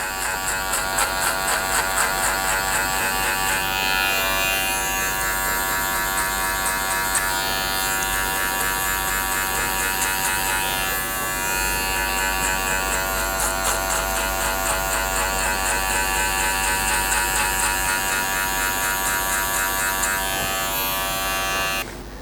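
Electric hair clippers fitted with a number 1 metal guard buzz steadily and close up while blending a skin fade, a continuous bright whir with no talking.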